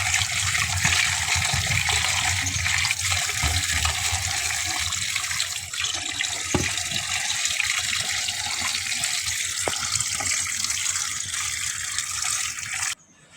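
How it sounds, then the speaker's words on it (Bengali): Mangoes washed under a running kitchen tap: a steady, close hiss of flowing water with faint splashes and handling knocks, cutting off abruptly at the end. "আম নিয়ে এসেছি, এখন এটা ভালো করে ধুয়ে নিব।"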